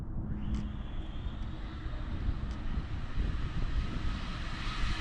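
Kyosho Fazer MK2 RC car with a 1972 Mazda Savanna GT body and a Castle motor upgrade, running at full throttle as a steady, loud high-pitched electric whine that holds level throughout, with wind rush over the microphone.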